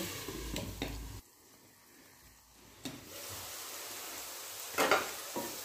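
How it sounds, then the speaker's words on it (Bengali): Vegetables for pasta fry in an oily pan with a low sizzle. A quieter stretch falls in the middle, and close clinks and scrapes from a spoon on the pan sound near the start and end. "আরও 2 মিনিট ভেজে ঢাকা দেবো।"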